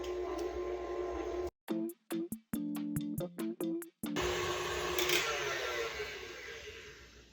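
Stand mixer with a paddle attachment beating butter and cream cheese for a cinnamon roll macaron filling, the motor whirring in short stop-start pulses before running steadily at low speed.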